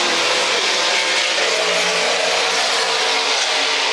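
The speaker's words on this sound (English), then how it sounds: "And Andrew Ranger is cutting every corner just a little bit tighter than the 74" Race cars roar past at the Grand Prix of Toronto street circuit at Exhibition Place, a loud, steady wash of engine and track noise lasting throughout with no voices.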